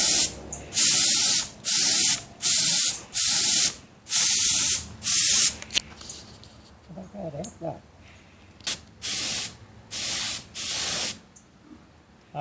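An air-compressor spray gun fires repeated loud bursts of hissing spray, about a dozen short blasts with brief gaps, while painting the fuselage of a 1/4 scale Piper Cub model airplane at 45 psi; quieter handling noises fill a pause midway.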